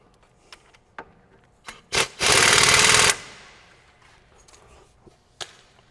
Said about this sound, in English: I'm just gonna give it a couple braps with the impact gun